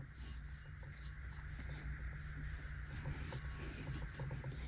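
A brush scrubs soap across the inside of a bowl in preparation for pouring plaster, a steady close, soft rubbing and swishing with faint irregular strokes throughout.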